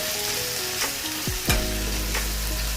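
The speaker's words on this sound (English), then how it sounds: "Let's saute it a bit" Onion masala with red chili powder sautés in a pan, giving a constant close sizzling hiss broken by a few spatula scrapes, with no talking.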